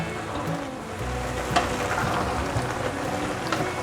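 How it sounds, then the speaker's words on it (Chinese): Sauce at a rolling boil in a pot, a dense steady bubbling and sizzling hiss with small pops, close and moderately quiet, no voices. "已经大滚了，锅边有冒泡了"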